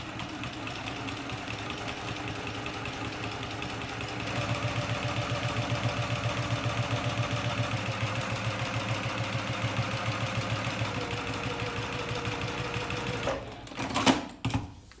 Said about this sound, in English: I'll then sew exactly on the other side of the tape before I reposition it